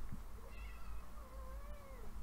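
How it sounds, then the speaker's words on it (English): A cat lets out a long, drawn-out meow that slides downward in pitch, faint and somewhat distant beneath a low steady room hum, with no talking during the call. "Hey, kitty cat."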